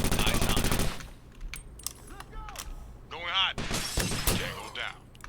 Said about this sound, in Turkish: Ayaklarına sıktım da.